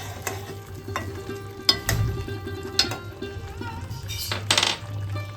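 Whole spices for a tempering crackle and sizzle in hot oil for raw tamarind chutney, a close, continuous frying hiss with a few sharper pops and metallic clinks of a utensil.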